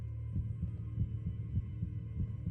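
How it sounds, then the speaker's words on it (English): A quickening heartbeat from a Minecraft video game pulses in deep, evenly spaced double thumps over a low steady hum, close and moderately loud with no voices. "The heartbeat."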